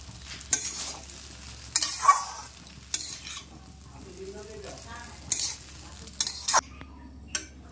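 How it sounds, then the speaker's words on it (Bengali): Duck egg chowmein being stir-fried in a pan, with intermittent scraping and stirring bursts over a steady low sizzle, close by; brief voice traces appear between the strokes. "দিয়ে এটা ভালো করে মিক্স করে নেব।"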